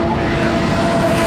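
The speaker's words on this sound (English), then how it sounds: "Hulkenberg just flying through down into Village" A Formula 1 car at the 2017 British Grand Prix heads down into the Village corner, its engine a loud, sustained drone with a steady whining tone that fills the whole short stretch, with no talking.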